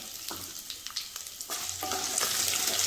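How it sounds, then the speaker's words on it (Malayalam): Coconut pieces crackle and sizzle in hot coconut oil with mustard seeds, chillies and curry leaves for a Kerala-style beef curry, with bursts of spattering and stirring that grow louder and more continuous toward the end. "അതിലേക്ക് ഞാൻ അല്പം കടുകിടുകയാണ് മുളകും കറിവേപ്പിലയും കൂടെ ചേർത്ത് കൊടുത്തു ഇനി ഇതിലേക്ക് തേങ്ങാക്കൊത്തി ചേർത്ത് കൊടുക്കാം"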